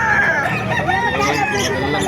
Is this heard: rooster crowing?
yes